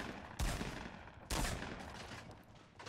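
Two loud, booming gunshots ring out in the Fortnite battle royale video game, spaced about a second apart, each followed by a lingering rumbling tail, with no speech.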